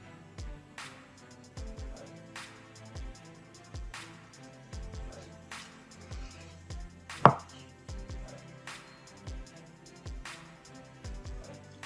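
A knife cuts smoked deer heart into half-inch slices on a board. Steady rhythmic strokes land about every second, close and fairly quiet, with one sharper knock partway through and no speech.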